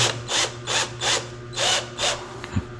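A power drill drives a screw in five or six short, regular bursts of whirring, each lasting about a fraction of a second, close and fairly loud, then stops.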